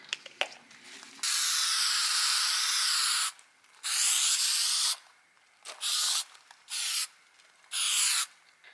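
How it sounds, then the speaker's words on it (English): Spray adhesive hisses from an aerosol can onto a 1986 Toyota pickup door panel in long sustained bursts, then several shorter blasts separated by pauses, close and steady, with a few small clicks at the start. "So I'm going to spray this on, let it get a little tacky"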